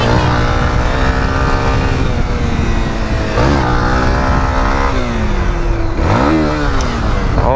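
A new Honda XRE-300 motorcycle engine runs loudly throughout, its pitch rising and falling with revs and gear changes, including a moment when it slips into neutral, heard close and continuous.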